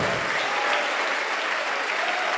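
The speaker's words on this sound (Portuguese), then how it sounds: "Aplauda o Senhor" A church congregation applauds, dense and steady clapping filling the hall throughout.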